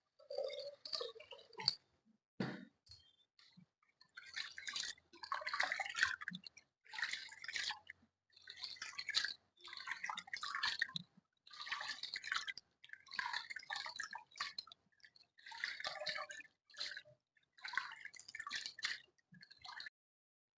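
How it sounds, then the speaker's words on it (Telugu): Toor dal being washed by hand in water, a run of soft squelching swishes and drips in short bursts with brief pauses, close and fairly quiet, no speech. "ఇప్పుడు కందిపప్పు చల్లారిన తర్వాత వాటర్ పోసుకుని శుభ్రంగా కడిగేసుకుందామండి"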